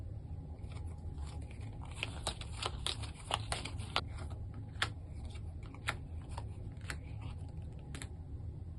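A deck of tarot cards shuffled by hand in a quiet room, a run of crisp riffling clicks and soft slaps, close and fairly faint, densest in the middle and thinning toward the end.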